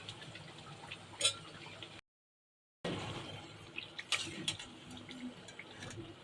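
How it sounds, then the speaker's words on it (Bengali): Puris fry in hot oil, giving a faint, soft bubbling with scattered small pops and crackles, broken by a short gap of silence, with no voices. "তেলের মধ্যে টকবক টকবক করছে"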